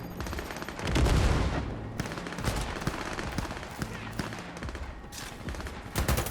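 Close-range gunfire in the Cyberpunk 2077 video game, with dense bursts of rapid shots and a loud blast near the start, mixed with game effects and a voice talking over it.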